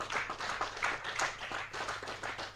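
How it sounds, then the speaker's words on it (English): Audience clapping at a CPL T20 cricket jersey and trophy unveiling ceremony, a steady patter of many hands that stays fairly even from start to finish. "A big round of applause for the CPL family"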